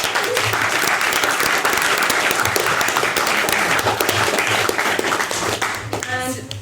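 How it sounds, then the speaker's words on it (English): A debate audience breaks into dense, sustained applause from many hands, loud and steady before tapering slightly at the end, with a voice starting to speak as it dies down. "so can we give a round of applause?"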